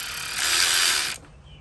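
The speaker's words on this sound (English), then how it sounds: "It's just like a socket wrench." Socket wrench ratcheting on the spark plugs of a 2012 Honda Civic 9th Gen 1.8 R18Z1 engine, a close, steady burst of rapid ratchet clicks lasting about a second before cutting off.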